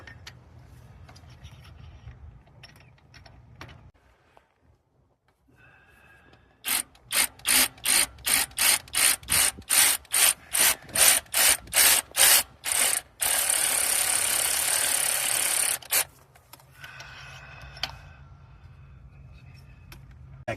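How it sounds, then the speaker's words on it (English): A drill bit bores out damaged spark plug threads in a 2003 Mustang GT engine, giving a rapid run of evenly spaced ratcheting bursts followed by a steady grinding whir, close and fairly quiet. "we're going to take this bit and we're going to bore out any"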